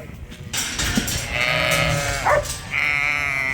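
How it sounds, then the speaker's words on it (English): Ewes bleat outdoors in the afternoon on a sheep farm, several overlapping wavering calls close by with steady rustling and ambient farm noise beneath. "So this afternoon we decided to let the ewes out and have a little play outdoors."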